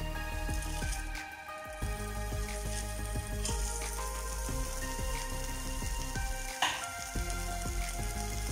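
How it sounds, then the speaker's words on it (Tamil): Torn coriander leaves dry-roast in a kadai without oil, giving a steady, soft crackling sizzle with occasional stirring scrapes throughout. "அதே கடாயில் கொத்தமல்லியை நல்லா கிள்ளி போட்டுக்கோங்க."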